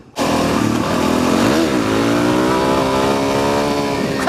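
A carbureted 2015 Suzuki DRZ400SM motorcycle engine revs steadily and loudly while riding, rising in pitch and holding a sustained close-up drone for several seconds with wind rush.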